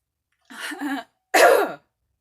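Two short, rough bursts close to the mic, a cough followed after a brief pause by a harsh throat clearing, with silence around them.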